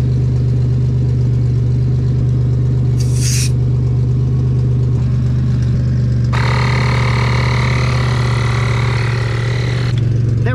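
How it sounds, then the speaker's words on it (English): A portable car jump starter with a built-in air compressor inflates a car tire with a loud, steady motor drone, and an airy hiss joins in partway through. "it's also an air compressor, so we can pump up our tires while we're here."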